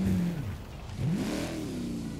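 Mercedes AMG engine in a racing video game revving, a tone that falls, dips, then climbs sharply and settles into a steady drone, close and moderately loud with no talking.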